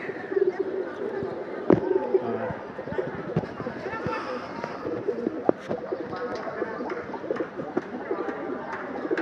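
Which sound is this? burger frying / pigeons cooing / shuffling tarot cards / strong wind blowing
pigeons cooing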